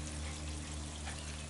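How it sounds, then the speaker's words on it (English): Faint, steady splashing and trickling from a small waterfall fed by a 300 gallon per hour pump in an outdoor tub, a continuous gentle water sound with nothing else heard. "Inside the tub, I've got a 300 gallon per hour pump, and that's of course for my waterfall"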